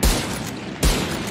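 Two heavy gunshot bursts ring out in the shooter game Valorant, each with a low thump and a loud, sustained blast, spaced under a second apart.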